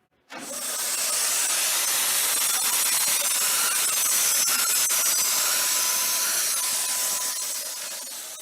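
A steady, loud hiss of a DipYourCar G-Force paint spray gun firing test shots starts abruptly and runs continuously for several seconds before easing slightly at the end.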